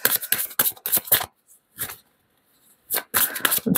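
Tarot cards shuffled by hand nearby in quick rustling bursts, broken by a pause and then resumed, with no voices.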